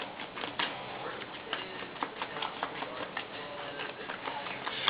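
A deck of Pokemon trading cards is shuffled by hand during a tabletop game, a steady patter of riffling and sliding cards that runs continuously and close for several seconds.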